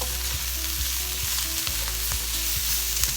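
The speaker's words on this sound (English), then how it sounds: "And we're going to saute these down. Well, stir fry them down," Greens stir-fry in a hot pan with a steady, even sizzle, punctuated by soft, regular scrapes and taps of stirring, close and without speech.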